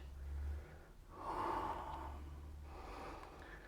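Audible breathing during a strength exercise with a stretch band: a sharp inhale, then a longer forceful exhale, close and moderately quiet, with no talking.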